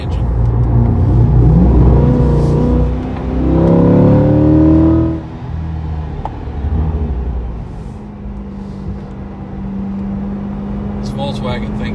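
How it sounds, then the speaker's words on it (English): A Volkswagen engine revs and rumbles steadily as the car drives twisty roads, rising and falling in pitch, with a person talking over the engine noise. "I'd like for you guys to be able to hear the engine."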